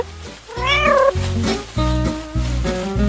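A cat meows repeatedly in a series of loud, close, drawn-out calls with rising and falling pitch, alone with no talking.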